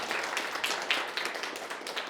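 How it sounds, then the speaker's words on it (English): An audience at a founder meetup gives a round of applause, a soft, steady patter of many hands clapping at a moderate distance for about two seconds. "Please give her a round of applause."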